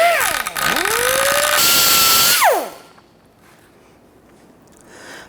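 A power tool slots a bolt hole in a coolant reservoir bracket on a 2005-2021 Nissan Frontier 4.0L V6. It whines loudly, dips and spins back up, then winds down and falls silent after about two and a half seconds.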